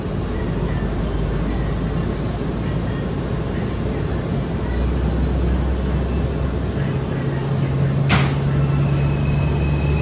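An R179 subway car rides the New York F local line toward Jamaica 179th Street, making a loud, steady, close rumble with a rising motor whine and a sharp brief click near the end.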